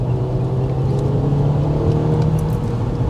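A Seat Leon FR hatchback accelerates hard through its gears, the engine drone loud and close from inside the cabin, pitch climbing steadily with no voices.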